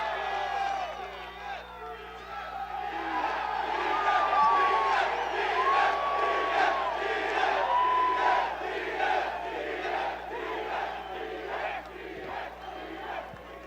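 Lively crowd at a UFC fight-week press conference for Israel Adesanya vs Marvin Vettori, cheering and shouting steadily throughout with whoops and calls rising over a dense roar, voices overlapping close and loud.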